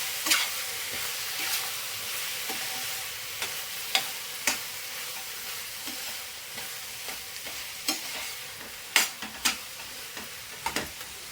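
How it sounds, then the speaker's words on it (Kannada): Ground masala being stirred into a bitter gourd gravy in a pan, with a steady soft sizzle and scattered sharp spoon scrapes and clicks against the pan throughout, no talking. "ಈಗ ನಾವು ರುಬ್ಬಿಟ್ಕೊಂಡಿರೋ ಮಸಾಲೆನ ಸೇರಿಸ್ಕೊಳ್ಳೋಣ. ಈಗ ಇದನ್ನು ಕೂಡ ಚೆನ್ನಾಗಿ ಮಿಕ್ಸ್ ಮಾಡ್ಕೊಳ್ಳೋಣ"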